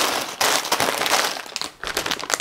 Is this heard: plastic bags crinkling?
yes